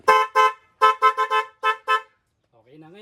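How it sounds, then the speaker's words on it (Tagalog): A newly wired motorcycle horn sounds in a rapid series of about eight loud, close honks, some of them clipped short, followed by a pause and faint talking at the end. "Ayun na yung busina natin, okay na siya."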